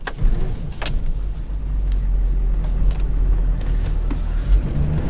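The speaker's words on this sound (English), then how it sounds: "No foot on the gas, just accelerates like that." Engine of a 1995 Suburban surging and revving up on its own with no throttle applied, a steady loud low drone that swells slightly, with a brief rattle near the start and no talking.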